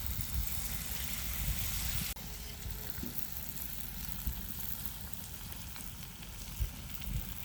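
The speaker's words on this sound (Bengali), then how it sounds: "গরম হয়ে গেছে, এখন পিঠাগুলো দিয়ে দিচ্ছে আমার মা।" Palm fritters (taler bora) frying in hot oil make a steady, loud sizzle from start to finish, with a brief sharp change in texture partway through as batter goes in, and nobody speaking.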